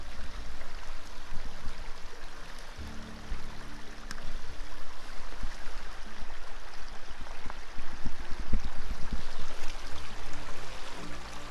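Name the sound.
creek water flowing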